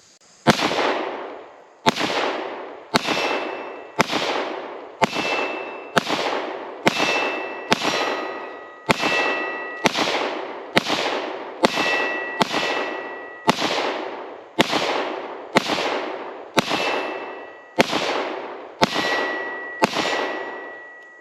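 A Keltec PR57 pistol fires about twenty rounds in a steady rhythm at steel targets downrange. Each loud, sharp shot is followed by a ringing metallic clang, and the shots come roughly one per second with no talking.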